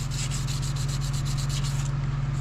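A Detroit Diesel Silver 4-53T crankshaft journal being polished with 2000 grit sandpaper, a fast, steady back-and-forth rubbing rasp close by, with regular rhythmic strokes and no talking.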